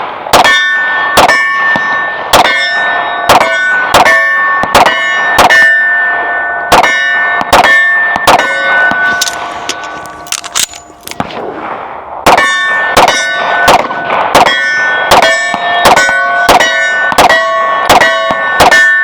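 Rapid strings of pistol shots from a Sig Sauer P211-GTO ring off steel targets at 25 yards, sharp loud clangs in quick bursts with a short pause midway before another volley.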